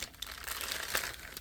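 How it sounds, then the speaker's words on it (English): Plastic wrapping crinkles and rustles steadily as a Threezero DLX Iron Man Mark 42 action figure is pulled free, a continuous close crackle with no voices. "Let's go ahead and get him out of his plastic"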